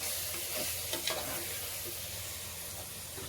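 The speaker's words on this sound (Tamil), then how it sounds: "இப்போ இது நம்ம என்ன பண்ண போறோம் அப்படின்னா லைட்டா வதக்க போறோம்." Biryani masala sizzles and fries in a pan while being stirred, a steady close crackling hiss with faint scraping of the spoon, no voices.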